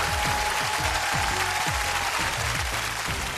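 A television game-show studio audience applauds loudly and continuously, dense clapping filling the whole stretch with a rhythmic pulse of low thumps underneath.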